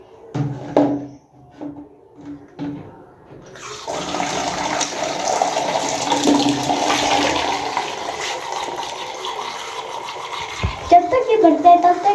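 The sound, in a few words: water poured into a pet's jar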